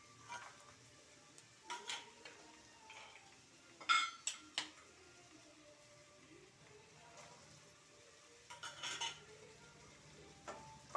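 Onions frying in oil in a pan, a soft, quiet sizzle in the background with intermittent clinks and scrapes of a spoon stirring, several short bursts of utensil noise.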